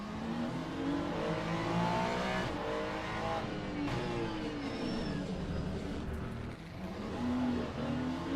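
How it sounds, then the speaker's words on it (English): A Ferrari GT3 race car in the Le Mans Ultimate video game roars close past, its engine note climbing and falling through gear changes amid other racing cars, loud and steady throughout. "There comes a Ferrari."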